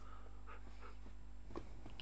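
A Minecraft wolf pants and whimpers in a video game, a soft repeated breathy panting with a couple of short whines over a steady low background hum.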